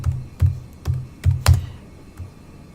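Keystrokes on a computer keyboard entering a command at a command prompt, a handful of distinct taps in an uneven rhythm with short pauses, close and clear with no talk.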